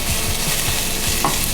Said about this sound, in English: So we'll add our onion. Saute the onions for about a minute or minute and a half.